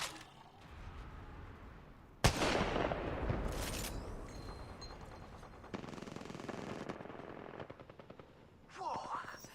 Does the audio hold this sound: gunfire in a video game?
yes